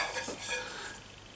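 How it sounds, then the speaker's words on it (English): A titanium camping pot is handled briefly, with light metallic clinks and scraping and a soft stirring-like rattle, close and fairly quiet, with no voices. "Oh, and a titanium pot."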